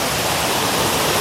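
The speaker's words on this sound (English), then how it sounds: "this is my first waterfall of the day" A small, somewhat man-made-looking waterfall in Germany's Black Forest gives a steady, close, broadband rush of falling water that holds even throughout, with no voices.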